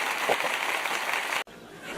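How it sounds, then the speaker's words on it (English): Steady broadband applause like a crowd clapping, continuous and fairly even before cutting off abruptly, then a quieter room tone. "They clapping for me."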